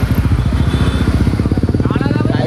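A motorcycle with an aftermarket exhaust at an exhaust shop in Hyderabad, running loud and close with a steady, rapid, throbbing burble of firing pulses that quickens slightly toward the end as the revs rise.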